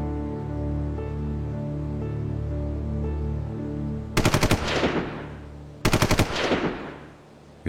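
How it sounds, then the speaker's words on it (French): Two short, sharp machine gun bursts, each a rapid rattle of shots followed by a long echoing decay, heard over a steady low droning background. "10 secondes après, 2 rafales courtes les ont touchés."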